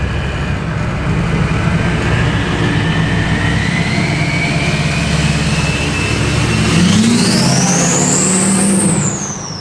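A Duramax diesel engine swapped into a K20 trophy truck runs loud and close with a deep, steady rumble and a rising turbo whine that climbs and then falls.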